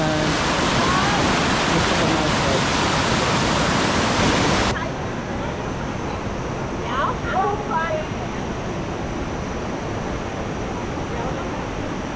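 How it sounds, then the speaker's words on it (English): Water rushing down from a mountain top as a waterfall, a steady broadband roar that is loud at first, then softer and more distant, with a few faint voices partway through. "The water is flowing from the top up there."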